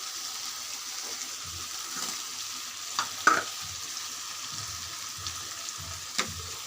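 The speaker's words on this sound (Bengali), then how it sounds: "আমার আলুগুলো কষানো হয়ে গেছে, এর মধ্যে আমি মাছগুলো দিয়ে দেব।" Tengra fish tipped into potatoes already sautéed in a pan, setting off a soft, steady frying sizzle with a few sharp spatula knocks and stirring scrapes near the middle.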